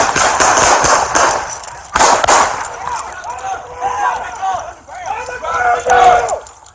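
Police officers firing at a fleeing armed suspect who had been driving a stolen vehicle, heard as harsh, loud bursts of gunfire near the start, followed by urgent shouting voices.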